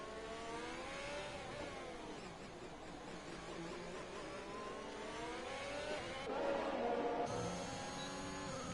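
An F1 race car engine in a racing video game screams at high revs with rising and falling pitch as it accelerates and shifts, a steady loud whine throughout.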